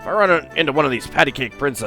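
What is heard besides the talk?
No everyday noises stand out.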